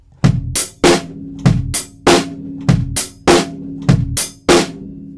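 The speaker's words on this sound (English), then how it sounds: "So now we've got the hi-hat in there with that groove." A steady drum groove: repeated kick and snare hits with a crisp hi-hat riding between them, evenly paced and close.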